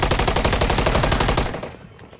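Rapid automatic gunfire in Call of Duty MW3, a loud, close burst of evenly spaced shots lasting about a second and a half before cutting off into a faint tail.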